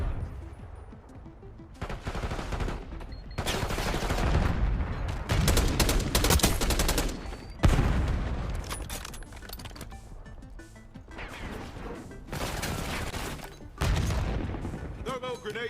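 Video game gunfire and grenade explosions come in loud bursts of rapid shots and booming blasts, with short quieter gaps between them, and a voice talks at points over the action.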